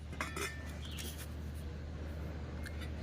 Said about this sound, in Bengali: আমি ঢাকাটা খুলছি